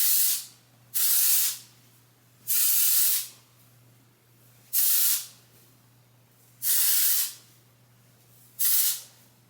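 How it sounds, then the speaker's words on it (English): Six short bursts of Oribe Dry Texturizing hair spray hiss loudly and close, each lasting about a second, separated by brief pauses with a faint low hum. "Now I'm gonna do some texture spray."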